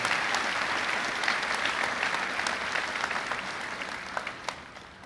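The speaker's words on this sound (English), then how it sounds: "Can we please all join together for a round of applause for everyone that had mentioned thus far?" A high school graduation crowd gives a sustained round of applause, broad and steady at first, then thinning toward the end as a few individual claps stand out.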